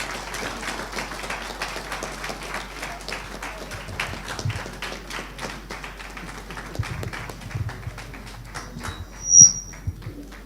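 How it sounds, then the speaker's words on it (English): Applause from a symposium audience after a speaker finishes, a sustained wash of many hands clapping at moderate volume in a room, with a brief louder burst near the end. "I thought we'll give him a standing round of applause"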